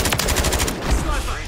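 Automatic gunfire in the Call of Duty Modern Warfare III Resurgence mode, a dense rapid burst of shots for the first half then fading into a lower rumble, loud and close.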